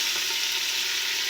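Chicken sizzling in avocado oil and butter in a pressure cooker, a dense, even hiss of frying heard up close and alone, steady with no break.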